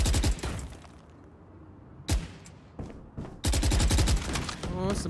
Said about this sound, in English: here's some gunshots from a couple more